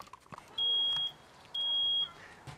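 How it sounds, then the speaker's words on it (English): Two long, shrill beeps from a home smoke alarm sounding during a fire department demonstration, each about half a second, separated by a brief pause over quiet room noise. "the smoke alarm is finally going off"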